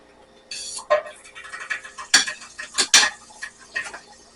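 Butter dropped into a frying pan pulled off the stove for a breakfast quesadilla, giving sharp metallic clinks and scrapes of utensils against the pan in irregular close bursts, with no voices.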